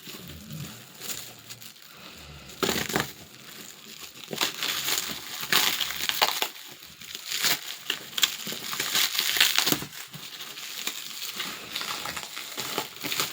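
Crinkling, crackling black plastic packaging being torn and pulled open, small and tightly wrapped, with irregular bursts of rustling close by and no voices.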